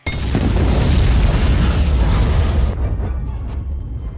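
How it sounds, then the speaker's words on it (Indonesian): A film explosion blowing up the money left in a vault: a sudden loud, deep boom that swells into a sustained roaring rumble for several seconds, then settles into a fading crackling tail. "Sebelum itu, John meledakkan sisa uang yang berada di berangkas hingga tak ada yang tersisa."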